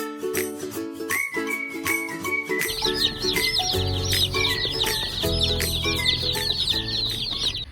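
Meat chicken chicks cheeping in a dense, continuous chorus of high chirps, close and lively, with no talking.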